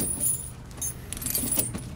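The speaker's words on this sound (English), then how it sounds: "we're just going to grab it by the middle and drape it over our tire." A Titan steel tire chain is draped over the tire of a 2021 Ram 2500, its metal links jangling and clinking in short bursts, close by, with no talking.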